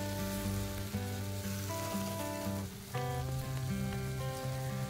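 Pumpkin dropped into potatoes frying in oil makes a continuous, close sizzle, with a brief dip midway, all beneath steady tonal background music.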